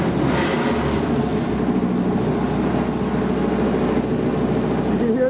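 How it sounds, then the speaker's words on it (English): A diaphragm pump on a sewage bypass unit kicks on during a dry prime, pulling air from an empty suction line, a loud, steady mechanical rumble with a pulsing engine-like drone that runs throughout. "You can hear the diaphragm pump kick on"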